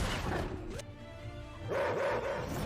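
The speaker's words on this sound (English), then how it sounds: "Good dog, Crypto." A dog barks in a TV episode, a couple of yappy barks amid a noisy soundtrack of music and effects.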